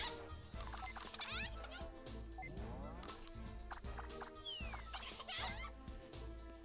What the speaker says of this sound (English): Terminator chickens.